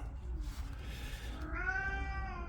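A pet cat lets out one clear, drawn-out meow near the end, rising out of a low background hum indoors, close and moderately loud.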